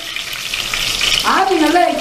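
Loud, close sizzling and crackling of onions frying in hot oil, growing busier partway through, with a faint voice underneath.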